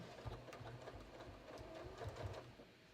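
A home sewing machine stitches a shorts waistband and fly, its motor running in short uneven bursts of rapid needle strokes, close and fairly quiet, stopping and restarting as if struggling.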